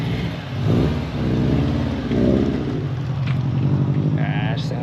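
A 2008–2014 Subaru WRX with a new Cobb turbo revs in rising and falling surges, a loud, close, rumbling engine note that holds steady between swells.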